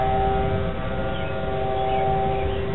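Outdoor civil defense sirens wail a thunderstorm warning as rain begins, a steady sustained tone held without a break, carrying from a distance across the neighborhood.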